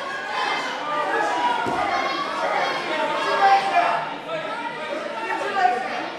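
Spectators at a grappling match between Robby Bloom and Justin Gonzalez cheer and shout in a sustained, close crowd roar, swelling briefly near the end, with one dull thump standing out early.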